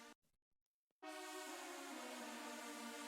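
A church organ patch played on keyboard starts after a few brief quiet taps, then holds a full, sustained chord with dense harmonics that shifts pitch partway through, steady and loud, with no voices.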